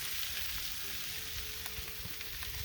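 Chopped veggies and beef for fried rice sizzle on a Big Green Egg ceramic grill, a faint, steady crackling fry with no talking.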